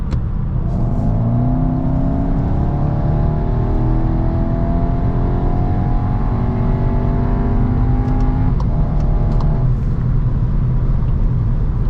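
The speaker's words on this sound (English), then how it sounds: "So I'm gonna floor it one more time again." A 2022 Skoda Karoq accelerating at full throttle on the autobahn, engine note rising steadily through the gear, heard loud and constant from inside the cabin with dense road and wind roar, a brief shift near the end, no talk.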